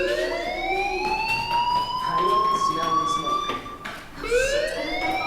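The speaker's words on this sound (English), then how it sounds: "Hey, do you hear that fire alarm?" A loud electronic fire alarm wails in rising, repeating sweeps, pausing briefly before starting again, in the video game Life is Strange.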